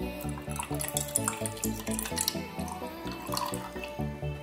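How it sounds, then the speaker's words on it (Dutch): A borax and water mixture being poured into a cup of vinegar for a bubbling slime experiment, giving a close, steady liquid trickle with small dripping splashes and a rhythmic thumping underneath. "Hier voeg ik het borax watermengsel aan toe."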